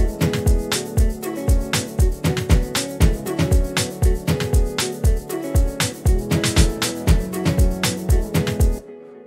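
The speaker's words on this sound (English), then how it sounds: "the reason why I call them hard percussions because they sound like toms" Tom-like hard percussion from an Afro House track, punchy pitched hits in a steady busy groove with layered tones, loud and alone until it cuts off near the end.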